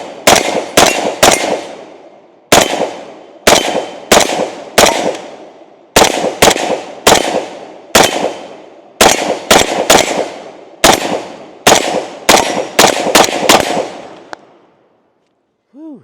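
Sharp, loud rifle shots from a Zastava M92 fitted with a muzzle brake, fired close by in quick bursts of two to four with short pauses between groups, each crack ringing out briefly before the firing stops.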